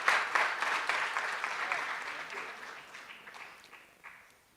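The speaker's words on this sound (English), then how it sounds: "Let's give her a round of applause" Applause from an audience at a National Parole Review Summit, starting fairly strong and steadily fading to quiet over a few seconds, with a brief late burst of clapping and faint voices.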